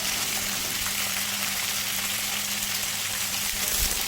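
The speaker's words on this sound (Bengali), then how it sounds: "গ্যাসের ফ্লেমটাকে হাইতে রেখে দু থেকে তিন মিনিট সমস্ত সবজিগুলোকে ভেজে নেব" Mixed vegetables fry in a pan over a high gas flame, giving a steady, close, continuous sizzle with a dense hiss throughout and a faint low hum beneath, no voices.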